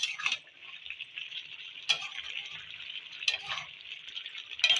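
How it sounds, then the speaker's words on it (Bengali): Mixed vegetables with flat beans, aubergine, potato and peas fry softly in a pan. Three or four brief stirring scrapes cut through a faint, steady sizzle. "আবার একবার নেড়ে দেবো"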